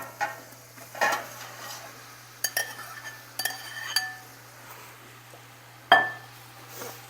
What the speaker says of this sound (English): so next I'm going to throw all my chicken back in here.